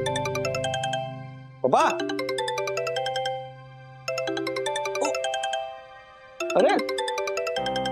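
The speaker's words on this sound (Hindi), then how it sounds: "सोसाइटी के मित्र मंडल का फोन बज रहा है, आपने फोन नहीं लिया?" A mobile phone's musical ringtone plays in a home in a Hindi family TV sitcom, repeating in loud bursts with short gaps, while a person speaks briefly between the rings.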